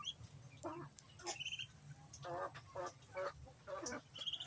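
Several short nasal quacking calls from ducks at close range in a rural provincial yard, with a steady low hum underneath and scattered rustling.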